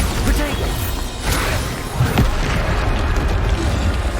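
Booming spell explosions from the Bombarda curse in Hogwarts Legacy, dull heavy bursts thudding repeatedly within a dense, loud battle mix.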